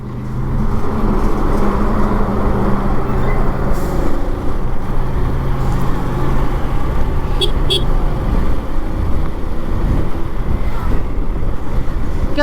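A motorcycle runs along a highway, its engine drone steady under heavy wind buffeting on the microphone throughout, with a brief high clink partway.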